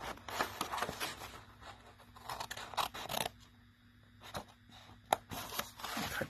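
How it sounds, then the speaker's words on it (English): Paper snips cut through patterned paper in a series of close, crisp snipping and rustling strokes with short pauses between cuts. "I use my paper snips."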